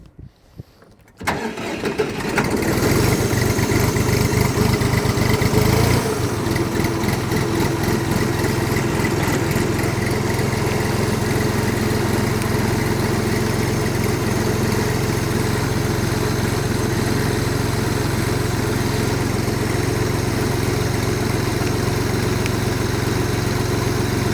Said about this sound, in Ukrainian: Давайте запустимо його.